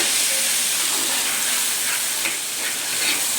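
Cumin and green chilli paste sizzles in hot oil with dried red chilli and black cumin, giving a loud, continuous, close frying hiss with a few faint crackles and no voices.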